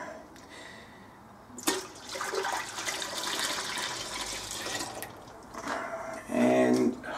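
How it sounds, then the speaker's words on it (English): Two liters of cold water pour steadily into a homebrew pot for several seconds, a loud splashing rush that stops, then a brief bubbling gurgle follows. "I'm gonna add the 2 liters of cold water."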